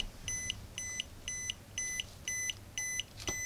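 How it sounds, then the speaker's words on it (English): A battery tester's low-battery alarm beeps steadily, seven evenly spaced high-pitched electronic tones about half a second apart, clear and close with no talking. "Will the alarm beep?"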